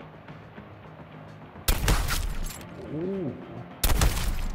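Sniper rifle fire in the video game Suicide Squad: Kill the Justice League, with two loud, sharp blasts a couple of seconds apart. A voice says a short exclamation, and a brief cooing sound comes between the shots.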